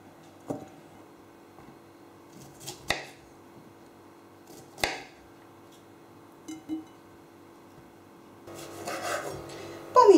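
A knife cuts a head of cauliflower into florets, producing a handful of separate crisp snaps and scrapes spaced out over quiet gaps, ending in a louder rustling burst.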